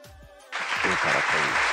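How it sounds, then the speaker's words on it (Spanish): Speech fades out as a burst of applause breaks out and holds steady, a crowd clapping loudly and continuously. "Una ovación para el señor Kobe."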